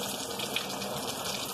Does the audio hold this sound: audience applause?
no